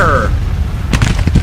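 Troops firing in Grand Tactician: The Civil War, a plantation battle: a few sharp, close gunshot cracks come in a quick ragged cluster near the end, over a low battlefield rumble, after a brief tonal sweep at the start.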